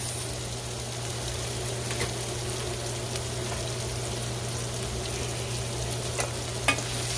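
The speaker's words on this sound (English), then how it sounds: "we're just gonna let this saute for a moment" Seasoning sautés in oil in a pot for Jamaican-style callaloo and saltfish, a soft continuous sizzle with occasional stirring scrapes and light clinks, fairly quiet over a low steady hum, with no voices.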